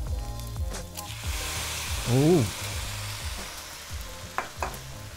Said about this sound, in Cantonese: 啲粉倒落去之後咧，就唔使即刻咁去反個殼，煎佢一陣間